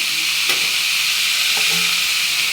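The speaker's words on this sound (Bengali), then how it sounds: "এগুলো একটু লাল লাল করে ভেজে নিই তেল আর কাঁচা লঙ্কা পেঁয়াজ দিয়ে" Vegetables fry in hot oil with green chilli and onion, a steady broadband sizzle stirred briefly now and then, close and fairly loud with no voices.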